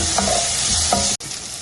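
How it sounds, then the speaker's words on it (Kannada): Tomatoes sizzle steadily in a hot pan of tempering for moong dal while a spoon scrapes and stirs twice, with a brief pause near the end. "ಟೊಮೆಟೊದು ನೀಟಾಗಿ ಫ್ರೈ ಆಗೋ ಥರ ಹುಡ್ಕೊಳ್ಳಿ"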